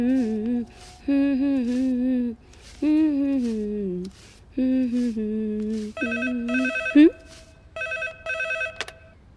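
A telephone rings with a repeating electronic melodic ringtone in short bursts separated by brief pauses. The tone sounds close and clear.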